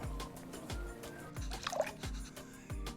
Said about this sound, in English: Then go ahead and add your water.